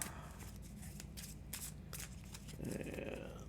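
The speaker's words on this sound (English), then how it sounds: "I will give my deck a quick shuffle." A deck of cards for the Marvel Champions card game is quickly shuffled nearby, producing quiet, crisp riffling and flicking with a brief fuller ruffle near the end, and no talking.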